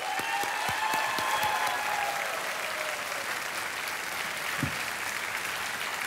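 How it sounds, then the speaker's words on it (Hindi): Sustained applause from the studio audience for a contestant who has just won on the quiz show Kaun Banega Crorepati Under 25, steady and dense with a few sharp claps and a faint voice early on. "तालियां बजती रहें विनर के लिए।"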